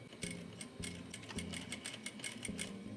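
A sewing machine fitted with a skinny foot stitches a zipper pouch, a quiet rapid mechanical chatter with regular needle clicks, close by and without talking.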